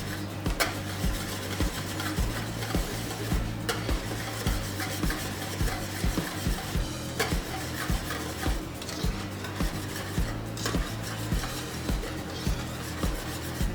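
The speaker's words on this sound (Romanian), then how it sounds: "Și amestecați în continuare." Chocolate cream with butter is stirred in a bowl, giving steady rhythmic scraping and rubbing strokes that repeat at a regular pace, close and moderately quiet, with no talking.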